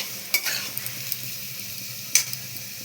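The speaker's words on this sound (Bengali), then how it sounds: "আর এখানেও আলু ভাজা হচ্ছে।" Potatoes fry in a pan under a quiet, steady sizzle, with two sharper scraping stirs of a utensil against the pan and a few faint clicks, no voices.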